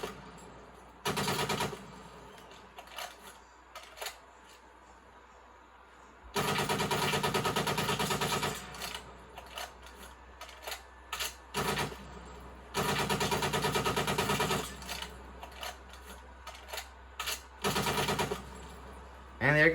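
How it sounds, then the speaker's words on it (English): Bursts of automatic fire from the C-58 assault rifle, modelled on the G3, in Call of Duty Cold War, alternating long sustained volleys with short clipped bursts and quiet gaps between them, loud and close. "that last assault rifle, the C-58, which is based off the Set-Me Model C3"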